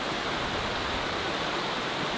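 A river flows steadily beside a campsite, its broadband rushing water continuous and fairly close, with no voices over it.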